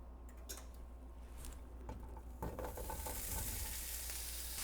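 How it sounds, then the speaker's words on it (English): Sliced sausage frying alone in a pan gives off a soft, steady sizzle with a few light ticks and clinks, and the sizzle grows fuller and brighter toward the end. "I have sausage that I've sliced up, and I'm going to cook it in the pan here, all by itself."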